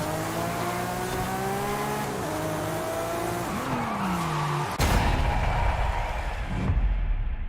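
A Forza video game car drifting, its engine whining and sliding in pitch as the tires squeal, followed by a sudden harsh noise burst and rougher skidding, loud and close.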